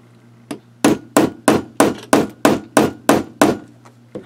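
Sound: hammering steel piece through thick layers of denim fabric

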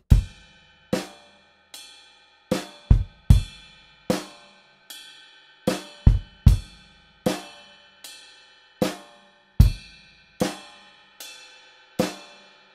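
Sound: drum kit playing grooves of bars 46-49 of a song

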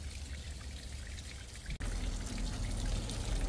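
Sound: pouring cooking water out of a pot

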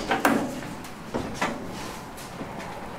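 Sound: truck door opening

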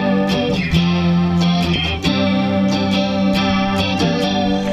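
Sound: guitar through ModTone MT-AQ chorus pedal

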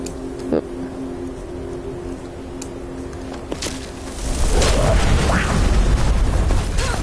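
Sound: explosions in the video game Skyrim

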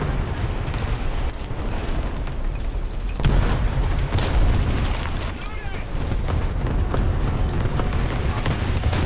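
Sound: tank cannon shot and explosion in video game War Thunder

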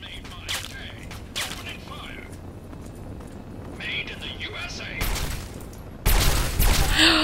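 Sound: laser pistol gunfire in video game Fallout 3

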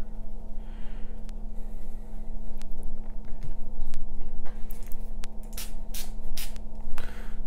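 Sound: spray bottle spraying water

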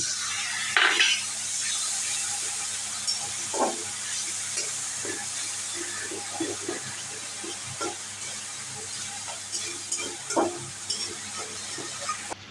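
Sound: spice paste being fried and stirred with sugar and water

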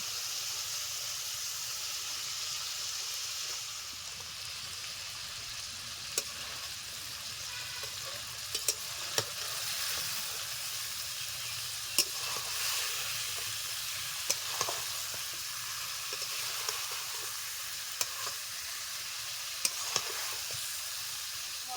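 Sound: fried fish sizzling with spice masala in a pan

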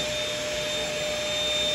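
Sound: child using a vacuum cleaner

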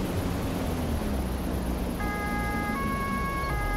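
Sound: police car siren in Autobahn Police Simulator 2 video game

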